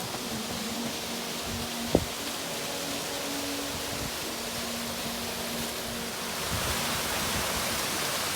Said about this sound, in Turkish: Akan sular böyle şelaleler oluşturuyor.